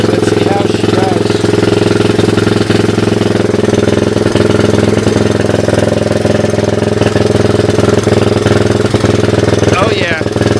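Honda 185S ATC three-wheeler with upgraded suspension being ridden: a loud, close, steady single-cylinder engine drone with knocking pulses throughout, and a voice speaking over it.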